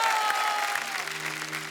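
Steady audience applause fills the room in a dense, continuous patter as performers are called onto a comedy show stage, with faint tones sounding underneath.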